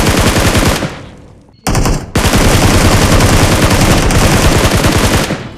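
Rapid, loud shotgun blasts from BGMI/PUBG rattle close up in dense bursts, broken by a brief dip and a short silent gap before the firing resumes and continues to the end.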